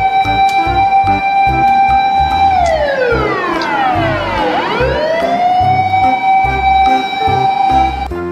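A toy ambulance siren wails loudly and close, its electronic tone sliding down and back up in a sweeping cycle over a steady mechanical buzz.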